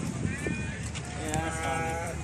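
Female sheep at a livestock market bleating in a couple of wavering cries, close and moderately loud over crowd murmur and nearby talk.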